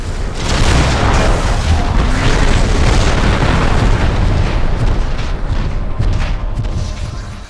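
Giant mech toppling and exploding in MechAssault 2: a loud, rolling boom with crackling bursts that swell and sustain for several seconds before slowly tapering off, heavy and close.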